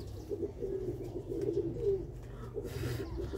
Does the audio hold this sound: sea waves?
no